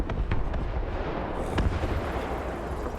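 An EBR 1954 armoured car gun firing in a video game battle, with heavy booming blasts and rumbling low-end reverberation, loud and close, and no talking.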